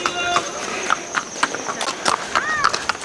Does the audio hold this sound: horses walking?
yes